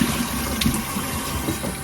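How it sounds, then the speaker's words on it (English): Cold water running steadily from a tap while someone rinses their face, a close, continuous splashing flow with slight shifts as hands move through it. "I love to rinse my face with cold water."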